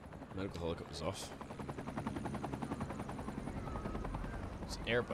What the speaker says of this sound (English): Medical helicopter's off.